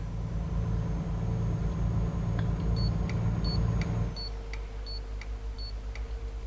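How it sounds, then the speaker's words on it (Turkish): A truck's turn signal in Euro Truck Simulator 2 ticks steadily in an even rhythm, with a soft electronic beep accompanying each pair of clicks, over a low engine rumble. "Bu araçtaki sinyal sesi de çok güzel hoşuma gitti yani."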